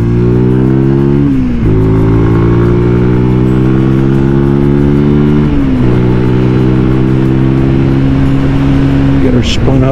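Benelli TnT 135 motorcycle engine revving hard while riding, loud and close from inside a helmet, climbing steadily through the gears with brief dips at each shift.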